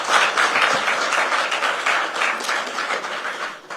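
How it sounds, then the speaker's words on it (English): A crowd at an India Today State of the States event warmly applauds Kamal Nath, former Chief Minister of Madhya Pradesh, with loud, sustained clapping from many hands that holds steady before easing slightly at the end. "Let's give him a very warm round of applause today."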